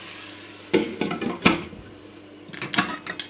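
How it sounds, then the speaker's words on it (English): A pan of courgette, onion and tomato cooks on the hob, with a soft sizzle beneath several sharp scraping knocks of a utensil stirring against the pan, close and clear. "got a pan of courgette, onion and tomato on the go"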